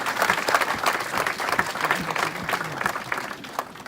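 Church congregation at a French-language evangelical service applauding loudly, steady sustained clapping with a faint crowd murmur mixed in.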